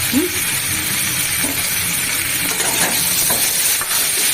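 Spices and a torn bay leaf frying in hot oil in a pan, a soft continuous sizzle and hiss with faint stirring, close and steady.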